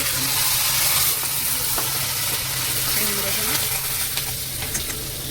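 Raw chickpeas frying in hot oil with a mustard seed and dried red chilli tempering, giving a steady, close, continuous sizzle with faint stirring, no talk.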